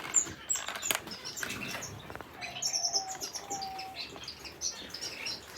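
Button quail chicks chirp in short, high, scattered peeps at a quiet indoor pen, with soft rustling and shuffling underneath.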